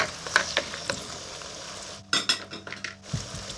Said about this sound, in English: in go the carrots, and a good stir around, and they cook